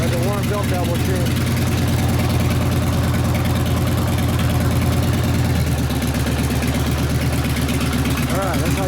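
A Harley Evo chopper engine idles steadily after a carburetor adjustment, a loud, close, lumpy rumble that settles into a slightly lower, even beat about halfway through, with a few brief revs.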